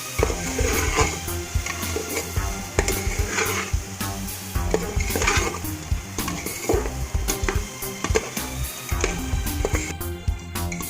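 Coriander powder and meat masala are stirred into frying yellow dal. A spoon scrapes and clanks rhythmically against the pan over a steady sizzle, close and fairly loud.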